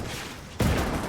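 A Panzerschreck rocket launcher fires in the Call to Arms strategy game, a single sudden loud blast cutting in over steady battlefield noise and ringing on briefly.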